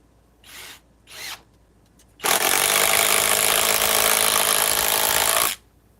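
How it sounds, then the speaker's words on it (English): A power impact driver whirs in two short bursts, then runs steadily and loudly for about three seconds before stopping, close by with no talking. "This ain't exactly a rocket impact driver."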